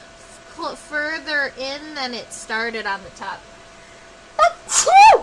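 A person sneezes sharply in two quick bursts near the end, after a stretch of calm talk while drawing an insect illustration.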